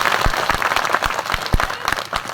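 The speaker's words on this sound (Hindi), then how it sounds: "सुनने हैं तो ताली बजाओ।" Audience applause at a Hindi poetry recital (kavi sammelan), a steady patter of many hands clapping with sharper individual claps punctuating it, fairly close and continuous throughout.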